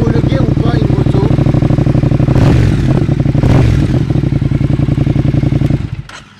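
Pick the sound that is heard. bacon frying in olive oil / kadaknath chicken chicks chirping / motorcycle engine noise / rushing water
motorcycle engine noise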